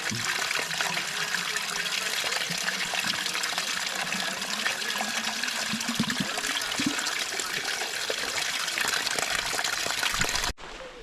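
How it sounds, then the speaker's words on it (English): A small mountain stream along the Appalachian Trail near Neels Gap, Georgia, flows in a steady, loud, continuous rush with a splashy waterfall character, cutting off abruptly at the end. "Nice little stream here."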